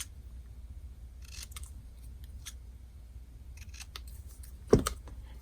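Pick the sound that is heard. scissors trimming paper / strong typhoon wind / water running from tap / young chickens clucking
scissors trimming paper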